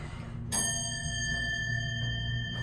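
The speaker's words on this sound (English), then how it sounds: "Oh man, that bell!" A Westinghouse hydraulic elevator at Macy's sounds its bell: a single bright ding strikes and rings on with a long, clear sustained tone over a low mechanical hum.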